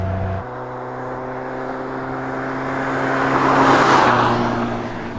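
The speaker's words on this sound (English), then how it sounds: "when you're just going along gently, very easy, sounds" A Caterham CSR sports car engine hums smoothly at low revs while cruising gently, a steady drone that swells slightly with a passing whoosh before settling again.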